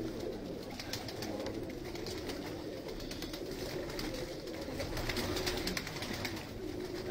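Pigeons coo in a dense, continuous murmur, with soft low calls overlapping throughout against a steady background.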